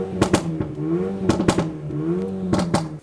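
A Renault Megane RS in race mode revs its engine, with the exhaust note rising and falling through several blips punctuated by sharp pops and crackles, loud and close.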